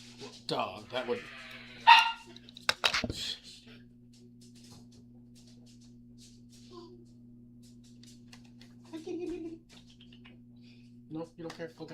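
A dog barks in short bursts a few times nearby, mixed with people talking and a steady low electrical hum.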